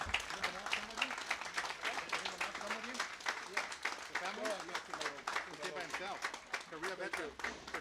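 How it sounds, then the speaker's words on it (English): Steady applause from a crowd at a Veterans Day ceremony in Baldwin Park, dense clapping sustained throughout at moderate distance. "give him a big round of applause"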